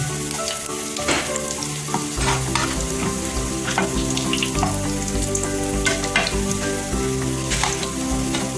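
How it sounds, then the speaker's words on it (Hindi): Steady crackling sizzle of cumin and red chili frying in hot oil for daal masoor, continuous and close, with occasional stirring clinks and no voices. "हल्का से और ब्राउन करेंगे ताकि जीरा और लाल मिर्च इसमें फ्राई हो जाए"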